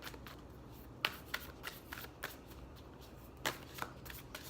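Tarot cards are shuffled in soft, close riffles and flicks, with a few sharper slaps spread irregularly over a quiet background.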